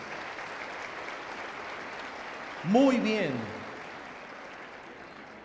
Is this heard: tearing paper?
no